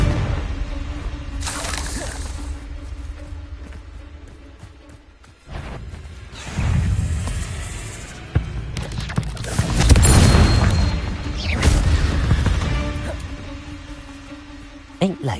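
Confringo blasting spell explosions in the Hogwarts Legacy video game: several loud crashing, crackling blasts in separate bursts across the stretch, with a voice over the combat.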